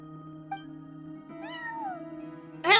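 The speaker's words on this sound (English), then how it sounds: "No one except for a cat watching over the front desk." In Genshin Impact, a cat watching over a front desk gives a short, clear meow over a soft game music bed, followed by a rising chime.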